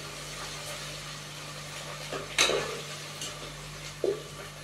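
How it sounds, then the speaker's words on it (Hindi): Ginger-garlic paste fries with onions for a beef pulao, a low steady sizzle beneath a persistent hum, with a couple of brief scrapes as it is stirred. "हल्का सा अदरक और लहसुन के पेस्ट को फ्राई करेंगे जस्ट 1 मिनट के लिए"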